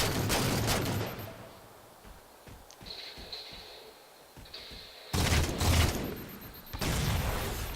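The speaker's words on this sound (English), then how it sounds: "it looks like Fuzzy has found him using that DMR and throwing some plasma grenades" Halo 4 video game combat with DMR rifle fire and plasma grenades: bursts of dense, sharp gunfire and blasts at the start and again later, separated by a quieter stretch of faint mechanical clicks and a thin electronic whine.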